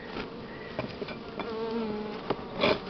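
Buckfast honey bees buzzing at an open hive during a spring inspection, several close individual buzzes rising and falling in pitch over a steady hum, no voices.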